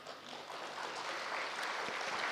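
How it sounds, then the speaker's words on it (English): Faint audience applause after a spiritual interview session, a soft continuous patter of many hands clapping that holds steady throughout. "You can clap."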